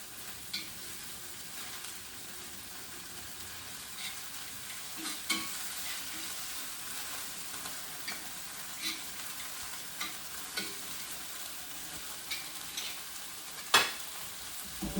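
Beef cooking in a pan, a quiet continuous sizzle broken by occasional light stirring knocks and scrapes, with one sharper clack near the end.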